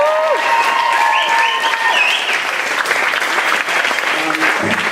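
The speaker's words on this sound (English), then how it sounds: "I would just like to give you another massive round of applause." Wedding guests at a reception break into a sustained round of loud, dense applause that carries steadily through the whole stretch, with some cheering and voices mixed into the clapping.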